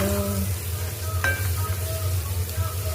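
Prawns fry in oil in a pan with a steady, close sizzle and low bubbling, while faint tonal clinks and a soft hum sit underneath.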